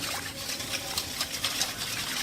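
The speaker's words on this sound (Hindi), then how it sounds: "मिल्क जो है आप 1 कप अभी ऐड कीजिएगा" One cup of milk poured into a bowl, making a short, continuous close liquid stream that splashes softly for about two seconds.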